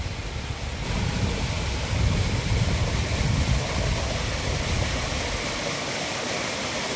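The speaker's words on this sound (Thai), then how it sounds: "ไม่อยากเชื่อว่าที่นี่เขาได้สร้างน้ำตกจำลองขึ้นมาภายในวัด" An artificial waterfall inside a Buddhist temple in Saraburi, Thailand, makes a constant broadband rush of falling water that stays steady throughout with no talking.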